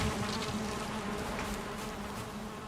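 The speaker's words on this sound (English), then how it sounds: "Oh, there's the bees." Bees in the Valheim video game give off a steady, even buzzing drone that lasts the whole moment, with no voices.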